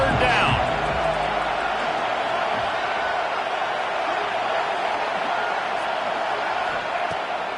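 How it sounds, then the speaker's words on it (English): A big football stadium crowd in Happy Valley roars on third down, a loud, dense, unbroken wall of noise that holds steady for the whole stretch, close and enveloping, with a brief sharper burst near the start. "Here comes the noise from this big crowd in Happy Valley on 3rd down."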